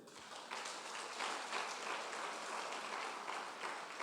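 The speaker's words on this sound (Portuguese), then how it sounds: "As palmas para Ele." A church congregation applauds: dense, continuous clapping from many hands fills the room for the full stretch at an even level, with no voice rising above it.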